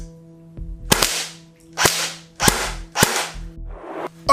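Snow Wolf M41A pulse rifle airsoft gun firing: four sharp, loud cracks at roughly half-second gaps, then a softer fifth shot, over a low steady hum.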